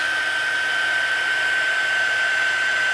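An embossing heat tool blows hot air to melt embossing powder on a handmade card, a steady, close, whining blower hiss with a sharp high tone, continuous and uninterrupted.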